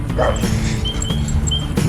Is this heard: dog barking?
yes